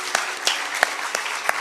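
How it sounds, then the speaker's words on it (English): Applause at the India International Guitar Festival 2015, a fairly close, continuous patter of clapping with several distinct louder claps standing out at regular intervals across the short stretch. "let us give him a very big round of applause for making this possible"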